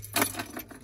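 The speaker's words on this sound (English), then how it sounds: "keys for the lock" Keys for a lock jangling near a Jeep Gladiator, a few quick metallic clinks and rattles in a short, faint burst.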